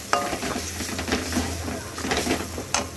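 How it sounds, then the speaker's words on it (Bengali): Lentil paste fries in hot oil while being stirred in a pan for a vegetarian dhoka dish, giving a steady close sizzle with scraping and clinking of the spoon against the pan. "তেলটা গরম হওয়ার পরেই এর মধ্যে দিয়ে দিচ্ছি পেস্ট করে রাখা ডালটা।"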